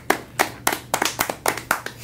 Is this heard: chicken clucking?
no